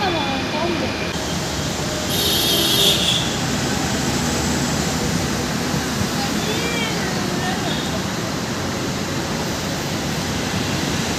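A Chennai Metro train near Guindy station runs with a steady, even rumble and hiss that holds at the same level throughout, with people faintly talking over it.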